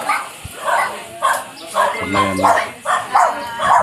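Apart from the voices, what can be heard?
dog barking at a free pet vaccination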